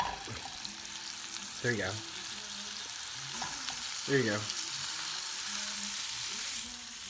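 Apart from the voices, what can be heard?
food frying in a pan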